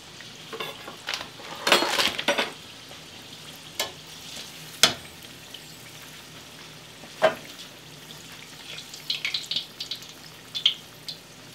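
Tofu egg rolls fry in a pan with a soft, steady sizzle, broken by occasional sharp clatters and scrapes as they are turned, heard up close with no talking.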